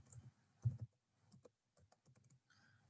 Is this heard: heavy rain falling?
no